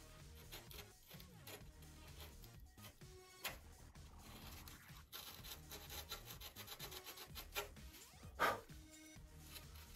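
Balsa wood on a Top Flite .60 size P-40E Warhawk model airplane fuselage being sanded or filed to a bevel: close, uneven rasping and rubbing strokes come in bursts, with a louder scrape near the end.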